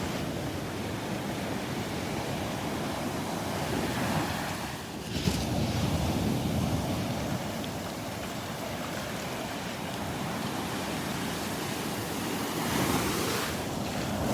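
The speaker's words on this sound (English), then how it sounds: "Boy, listen to those waves breaking." Ocean surf roars steadily as waves break and wash onto the shore at Delnor-Wiggins beach, mixed with wind buffeting the microphone, with no voices.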